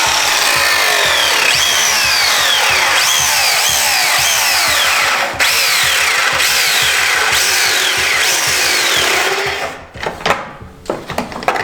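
A power tool cutting a plastic bumper on a 5th-gen Toyota 4Runner, a loud continuous rasping saw with rhythmic strokes, stopping near the end for a few scattered clunks and handling sounds.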